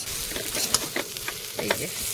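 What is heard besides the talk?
water poured into frying potatoes for potato dal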